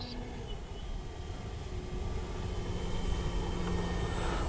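An E-flite CZ T-28 radio-controlled model plane's motor hums steadily in flight, a moderate outdoor drone that gradually grows a little louder as it approaches, with no voices.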